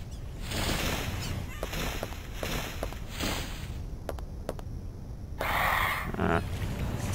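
Screeching, honking birds in Dino Crisis 2, several harsh calls repeating at moderate volume, mixed with footsteps and sharp clicks, a louder squawk near the end.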